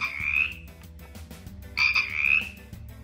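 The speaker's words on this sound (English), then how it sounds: "Look children, Felix the Frog is jumping." A cartoon frog character croaks in two bright, bubbly bursts over a light musical backing, with a rhythmic bouncing pulse between them.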